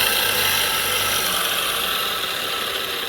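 An electric coconut grating machine runs, its motor spinning a shaft that drives the grating blade. It gives a steady, continuous mechanical whir and hum at an even level, with no talking.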